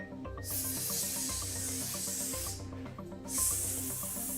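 Two long hissing sprays, the second shorter, burst over steady background music; loud, close and breathy, a voice mimicking an air freshener aerosol can.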